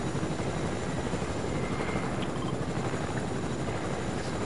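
A helicopter in a Fortnite duos match roars steadily and loudly throughout, a continuous dense rotor and engine drone with no talk over it.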